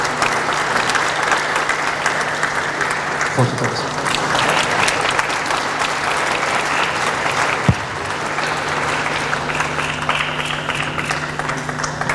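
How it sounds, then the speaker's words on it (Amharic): Sustained applause from a crowd at a graduation ceremony, dense steady clapping filling the whole stretch at a constant, fairly loud level. "እባካችሁ ጭብጨባ ያንሳል"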